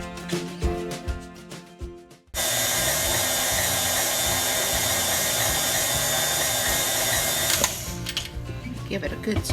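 A mixer beats sour cream pound cake batter in a loud, steady whirring drone that starts abruptly after some quieter kitchen sounds and talk, holds for about five seconds, then drops back to softer clatter.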